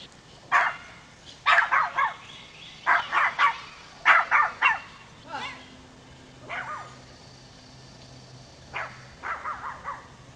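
Two dogs, a small black-and-white one and a big one, bark in sharp clustered bursts on camera footage, then give a few scattered yaps, with people talking in between.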